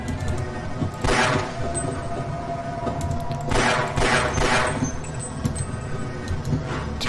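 Video game gunfire in Half-Life, fired at targets along railway tracks: several loud bursts of shots with a steady background hum between them.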